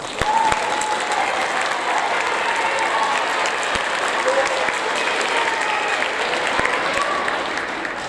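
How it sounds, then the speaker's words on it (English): Steady, dense applause from a large audience at a sixth-grade awards ceremony fills the whole stretch, loud and continuous with scattered cheers and voices mixed in. "give them one more round of applause"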